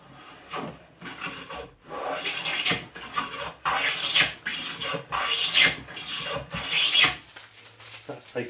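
A No.4 hand plane bought on eBay takes clean shavings off a wooden board in repeated strokes, each a rasping swish lasting about a second with brief pauses between them, close up and clear with no talking.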